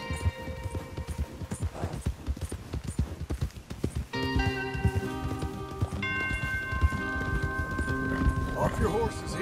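Horse hooves clip-clop in Red Dead Redemption II at night, a rhythmic run of steps that slows and settles, with a brief whinny and in-game voices talking over it while tonal music rises in the background.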